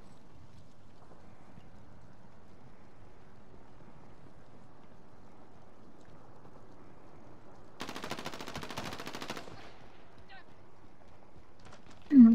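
Automatic gunfire in the video game COD Warzone, rebirth mode: a single dense burst of rapid shots about a second and a half long, standing out against an otherwise quiet background, with a brief thump near the end.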